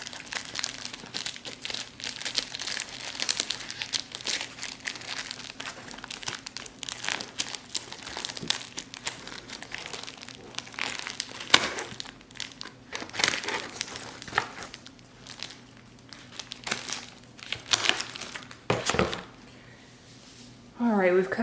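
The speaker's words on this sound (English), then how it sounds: "Alright, we've cut all the plastic around." Plastic wrap around a shipped Cat Hoa Loc mango seedling being cut and peeled away, giving continuous close crinkling and rustling with occasional sharper crackles and snips over about twenty seconds.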